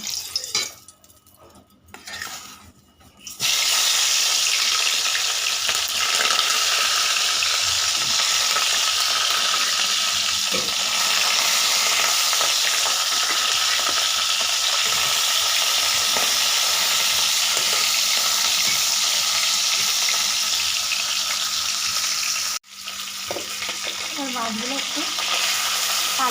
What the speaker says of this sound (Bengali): কড়াইতে তেল দিয়ে দিয়েছি প্রথমে আমি মাছটা ভেজে নেব আর তেলটাও গরম হয়ে গেছে